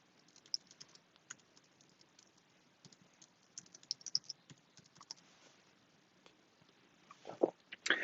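Password being typed on a computer keyboard, a quiet run of light, irregular key clicks alone with no voices, growing denser and louder near the end.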